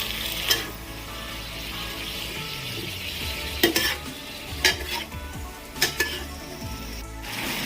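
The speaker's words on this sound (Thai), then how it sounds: "จากนั้นก็ผัดนะครับให้ตัว ผงซอสนะครับ เข้ากับ คะน้าครับที่อยู่ใน กระทะของเรานะครับ" Kale stir-fried with seasoning powder in a wok, a steady sizzle under repeated scraping strokes of a metal spatula and sharp clinks against the pan, close and unhurried.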